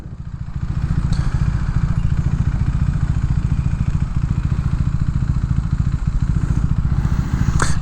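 A KTM 390 Adventure motorcycle with a Yoshimura exhaust idles close by, loud and steady with a rapid, even thumping throb throughout.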